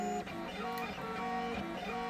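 3D printer starting a print, stepper motors whirring and humming in shifting tones with a steady mechanical drone, close and continuous without talk.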